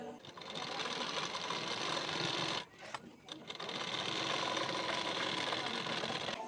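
Sewing machine running a straight stitch along a folded strip of blouse fabric, a steady loud mechanical whir that pauses briefly midway, then resumes with low talk faintly underneath.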